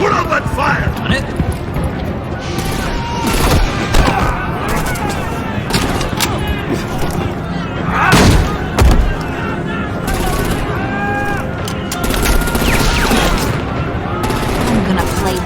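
Dense gunfire bursts and shots crackle through a loud combat scene in Batman: The Enemy Within, with voices shouting over the continuous din.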